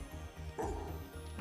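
Short yipping dog barks from the Trails to Azure video game, quiet and set over a steady game background.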